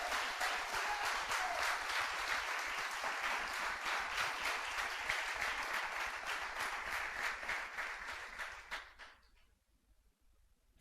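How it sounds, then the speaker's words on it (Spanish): A church congregation claps together in a sustained, even burst of applause lasting several seconds before quickly dying away into near silence. "Dele un fuerte aplauso al Señor."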